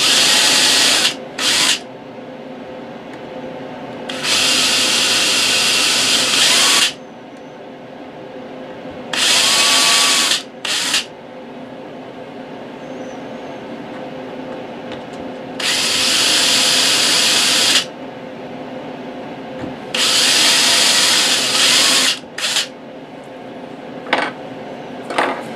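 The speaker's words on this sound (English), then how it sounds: "this is a Forstner bit, which I'm going to use to counterbore this." A power drill bores a counterbore into wood with a Forstner bit in loud, steady bursts of several seconds each, separated by pauses, with short blips between runs.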